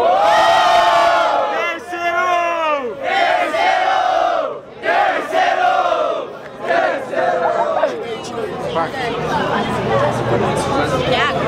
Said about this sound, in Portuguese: Barulho para as rimas do Thiago